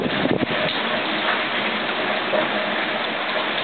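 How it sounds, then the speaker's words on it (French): Dense, steady rain pours down close by during a thunderstorm in Mansle, France, a continuous wash of noise with no voices. "Il tombe des cordes."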